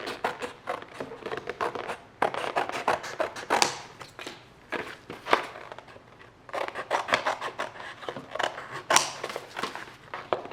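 Scissors cut a rectangle from a sheet of material for a collagraph print, producing close, rhythmic runs of crisp snips separated by short pauses.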